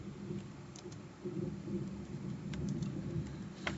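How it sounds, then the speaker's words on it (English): Thunder rumbles from a storm outside, a steady low roar with brief crackles, lightly mixed with what may be rain, moderately faint and continuous with no talk. "Lots of thunder and lightning out there."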